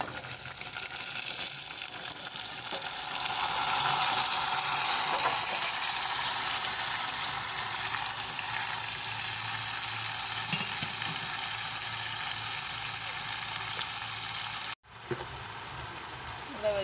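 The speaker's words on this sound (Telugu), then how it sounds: "ఇప్పుడైతే మిగిలిన వెజిటేబుల్స్ అన్నీ వేసేసుకుంటున్నా" Vegetables join prawns frying in a pan for a ridge gourd prawn curry, producing a loud, continuous sizzle with stirring scrapes, and someone talks over it.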